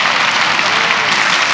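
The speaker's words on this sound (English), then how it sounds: "Give him one more round of applause" Audience applause at a podcast recording in Redlands, a dense, steady wash of clapping that holds at an even, loud level for the whole short stretch.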